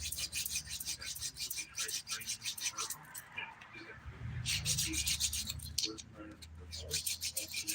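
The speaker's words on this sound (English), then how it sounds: "Whenever you see me like filing my nail back and forth, really going at it like that, I am generally using the 180 grit side of my file" The 180 grit side of a nail file rasps back and forth across a fingernail in steady, close strokes, in bursts with brief pauses.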